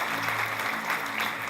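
A church congregation applauds, a dense, steady wash of clapping with a faint tonal hum underneath.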